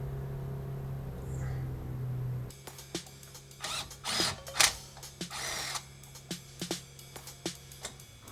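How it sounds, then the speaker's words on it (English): A big breaker bar works loose the brake caliper bolts on a Porsche. After a low hum, sharp metallic clicks, clanks and short scraping bursts come in an irregular, close series. "We'll take these calipers off using a big breaker bar to crack them."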